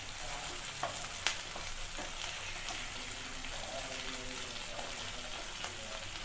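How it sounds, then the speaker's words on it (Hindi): Chicken tikka pieces sizzle steadily in a hot pan, a continuous moderate frying hiss with a few short clicks and scrapes as the pieces are turned over. "और अब हम इसे चिकन को पलटेंगे। सभी चिकन को अच्छे से पलट लेना है।"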